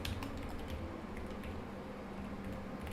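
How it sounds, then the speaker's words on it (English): Steady, close computer-keyboard typing during Rust compiler programming work, a continuous patter of soft key clicks over low background hum, with no voice. "let's type more boilerplate"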